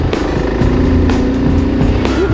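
A vehicle grinds steadily over deep, loose gravel, its engine drone and crunching tyres forming a loud, continuous rumble close by, with brief bursts of wind or stone spray cutting through.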